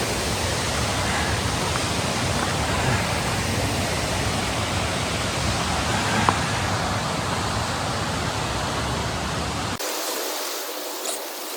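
A waterfall in Wintergreen Gorge near Erie, Pennsylvania, makes a steady, close, full roar of falling water that fills the scene, then drops off abruptly to a much quieter background near the end.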